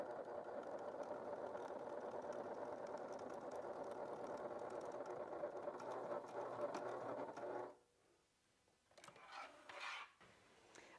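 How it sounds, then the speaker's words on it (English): A sewing machine stitches a line along a Dior-inspired leather wallet, running steadily and close for about eight seconds before stopping, followed by a few faint handling rustles. "I have one line of stitching done and just did it right over my existing stitches"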